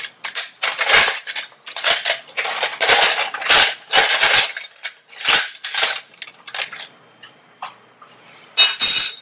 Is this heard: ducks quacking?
no